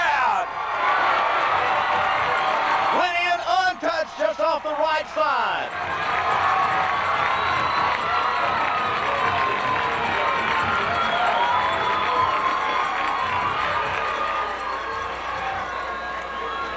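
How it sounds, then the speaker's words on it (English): A high school football crowd roars after a Nashville Scrappers touchdown in a 1996 game against the Prescott Curley Wolves, loud sustained cheering and whistles from the stands while an announcer talks over the noise. "Touchdown, Scrappers! Listen to this crowd!"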